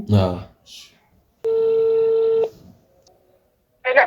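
Telephone call being placed: a single steady tone rings for about a second, close and clear, between short bursts of talk before and after.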